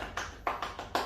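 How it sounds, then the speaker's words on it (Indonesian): Applause from a church congregation at an online Christmas service in Jakarta, heard as four faint, separate bursts of clapping across a very short stretch, with no voices over it. "Beri tepuk tangan yang meriah."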